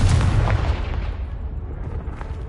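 A loud, deep blast from the Confringo spell in Hogwarts Legacy, booming at once and then rumbling away into a long fading tail, with no voices.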